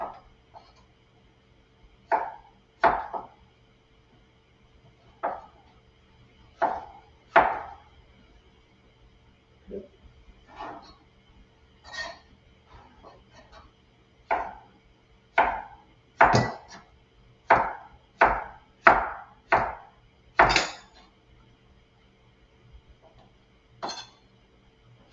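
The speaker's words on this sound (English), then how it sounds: "now we're just going to cut the papaya in" A knife dicing papaya into small pieces on a board, a series of crisp, distinct chops in irregular bursts, close and clear against near silence.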